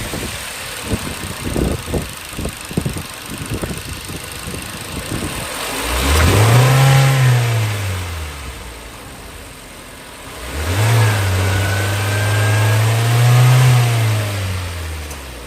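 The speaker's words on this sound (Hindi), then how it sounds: "आइए अब पेट्रोल इंजन की साउंड सुनते हैं।" A Hyundai Tucson petrol engine revs up sharply twice from idle, each rise swelling and falling back, recorded up close after a few scattered clicks and taps.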